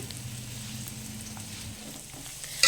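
Finely chopped onion and green chilli fry in a pan, giving a soft, even sizzle up close, with a brief sharper hiss right at the end and no talk.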